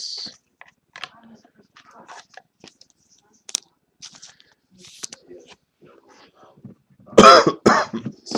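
A single loud, harsh cough near the end from someone at a table opening football trading card boxes, following quiet scattered clicks and soft handling noises.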